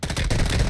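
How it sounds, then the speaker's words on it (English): Loud, close automatic gunfire from the video game Call of Duty: Warzone, a rapid burst of shots packed into less than a second. "You are just blindly shooting."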